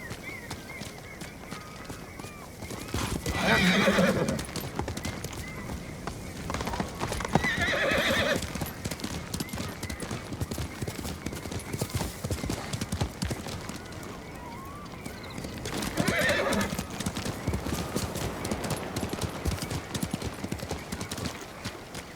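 Hooves clip-clop as a horse runs in the Ghost of Tsushima video game, with whinnying neighs bursting out around the fourth, eighth and sixteenth seconds over a steady ambient bed.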